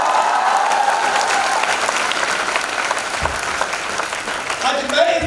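An audience at a training seminar in Patna applauds loudly and steadily for several seconds, dense clapping filling the space, with a voice briefly audible near the end.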